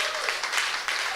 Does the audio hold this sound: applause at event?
yes